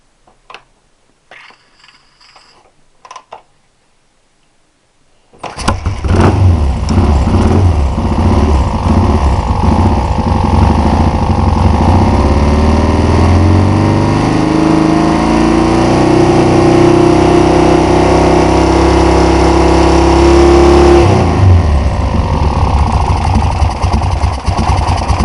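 A car engine starts after a quiet pause and runs loud and steady, rising to about 4,000 RPM and holding there before easing off near the end, while checks for a charging fault go on.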